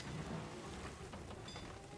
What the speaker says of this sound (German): Ist das echter Regen jetzt?